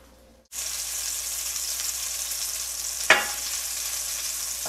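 A breaded schnitzel fries in oil in a pan, a loud, constant crackling sizzle that starts abruptly after a moment of quiet, with one sharp clatter of a utensil partway through.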